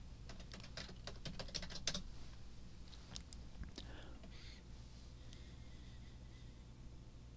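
Quiet, rapid typing on a computer keyboard while a username and password are entered to log in, with a burst of clustered keystrokes at the start, then sparser taps over a low steady hum.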